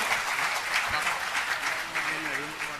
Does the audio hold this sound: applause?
yes